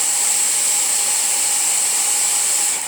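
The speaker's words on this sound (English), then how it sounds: "I've brought a weapon of the blow dryer, so watch out." A blow dryer drying paint runs steadily, a loud continuous whooshing hiss with a high whine, alone and unchanging for a few seconds.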